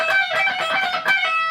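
A fast electric guitar lick from a solo, played at full song tempo, with bright, dense rapid notes ringing steadily and loudly throughout, with no talking.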